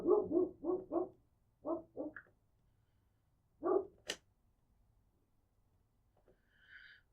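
A dog barks in a quick run of four, then a pair, then one more after a pause, sharp and fairly close against an otherwise quiet room during a game.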